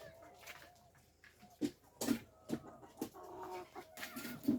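Hens cluck softly and intermittently at close range while laying eggs, short low clucks scattered over a quiet barn background.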